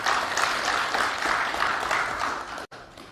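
An audience at a Dayak community hearing at the Indonesian parliament applauds steadily for nearly three seconds, a moderate, even wash of clapping that cuts off abruptly.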